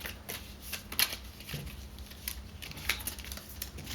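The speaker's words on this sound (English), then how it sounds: "So we'll shuffle the vermin deck" Cards from a board game's vermin deck being shuffled, giving soft riffling bursts with a few sharper flicks over a quiet background.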